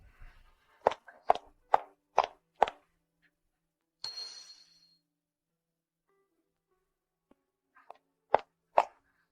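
Several sharp glassy knocks and clinks in quick succession as a glass bottle is knocked over, a short scraping rattle, then two more knocks after a pause; quiet room otherwise.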